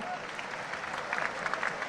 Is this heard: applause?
yes